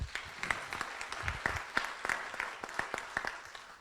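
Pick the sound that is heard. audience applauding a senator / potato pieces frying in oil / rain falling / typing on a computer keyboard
audience applauding a senator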